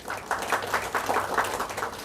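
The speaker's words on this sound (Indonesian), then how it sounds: "Tepuk tangan." Audience at a Maulid gathering of a Muslim health-workers' community clapping together, a dense, even patter of many hands that holds steady throughout, heard from within the hall with no voices over it.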